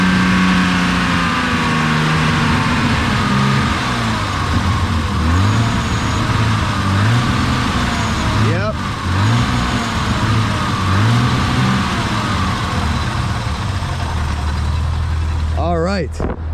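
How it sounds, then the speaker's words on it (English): An old BMW E12 with a fuel system fault is pulled over and revved from idle. Its engine gives repeated rising and falling revs over a steady rumble, close and loud, ending in a short clunk. "So I'm gonna pull over and give it some revs at idle and watch what happens."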